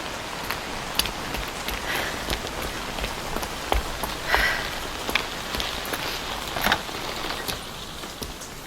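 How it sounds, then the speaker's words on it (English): Steady rain falling on surfaces, with scattered louder drops and patters standing out against the continuous hiss, in the mobile video game Evidence 111. "The rain's getting stronger."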